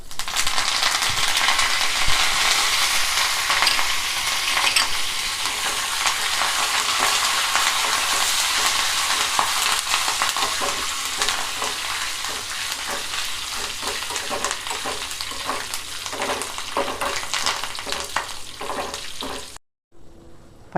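Curry leaves crackle in a hot tempering of seeds, chillies and garlic for a tomato-chilli chutney, a loud steady sizzle with stirring clinks and spatters that runs for about twenty seconds before stopping abruptly.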